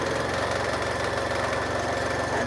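A sewing machine stitches kaleidoscope quilt blocks from pre-cut fabric pieces, giving a loud, steady motor whir with a fast, even needle chatter that runs without a break.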